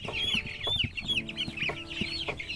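Rhode Island Red chickens cluck repeatedly in a poultry house, several birds close by with busy overlapping calls throughout.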